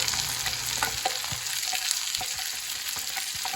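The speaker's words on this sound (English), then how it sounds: "now we're going to add some onions in here, and we're going to let those get nice and translucent" Onion and shallot sizzle in a pan for Southern fried cabbage, a steady close frying crackle with light stirring scrapes and no talk.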